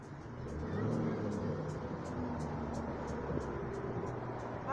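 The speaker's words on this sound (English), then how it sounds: "something sounded like something's wrong with that car" A car passes close by with a rough, strained engine note that suggests a fault, a steady loud rumble and whir holding for several seconds with no talk over it.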